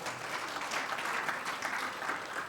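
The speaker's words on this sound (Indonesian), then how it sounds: "Sambut dengan sorak-sorai." A church congregation at a Sunday worship service in Indonesia claps steadily, a dense even patter of many hands at moderate distance with faint cheering underneath.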